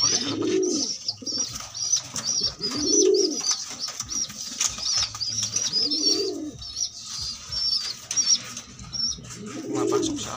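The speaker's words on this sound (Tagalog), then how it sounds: "Pumapasok agad kalapatids." Pigeons coo close by in a slow repeating rhythm, a soft low call rising and falling about every two to three seconds, with faint chirps and rustling in the background.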